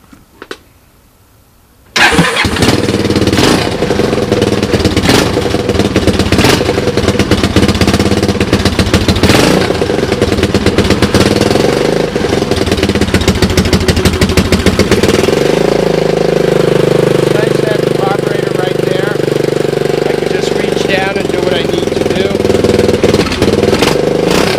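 A Honda UTV engine cold-starts after six months idle, catching abruptly and then running loud and close with a rough, steady idle that settles lower partway through.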